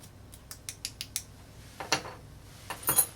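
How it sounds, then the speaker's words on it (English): Whole nutmeg is grated for a non-alcoholic drink: a quick run of short, faint rasping strokes, followed by a few louder, longer scrapes close by, with no talking. "So I'm just gonna grate some nutmeg here."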